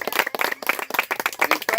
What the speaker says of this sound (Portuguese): Uma salva de palmas para o Senhor da glória.